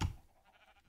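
Llama bleating in the Minecraft video game: one short, loud bleat right at the start, then a faint tail of quieter game sound with no talking.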